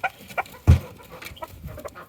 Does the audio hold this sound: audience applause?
no